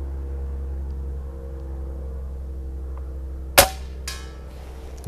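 A Crosman Pumpmaster 760 air rifle, pumped eight times, fires one sharp crack at a 50-yard target, followed moments later by a faint distant impact, all over a steady low outdoor hum.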